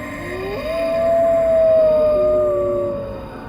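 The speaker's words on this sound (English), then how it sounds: "he heard the howl of a wolf" A long wolf howl rises and holds a steady, mournful tone for a couple of seconds before fading, heard alone over a dark, quiet background in a Himalayan setting.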